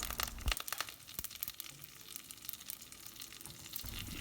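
Cumin seeds and curry leaves sizzle faintly in hot oil as a sambar tempering, with soft scattered crackles and a couple of brief pops at low volume.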